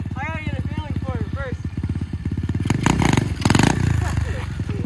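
A Coleman mini bike engine close by, buzzing in a rapid pulsing putter, then revving harder with a rough surge before settling back, while people talk over it.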